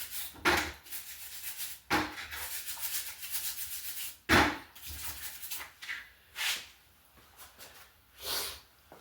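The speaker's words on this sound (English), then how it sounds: "Go scrub it real quick." Brush scrubbing dirt and grime off an old part from a 1992 Raleigh Chill mountain bike, in close, repeated rough strokes with short pauses between bursts.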